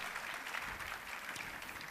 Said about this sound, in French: Allez, on peut applaudir ce premier gratin de cèpe.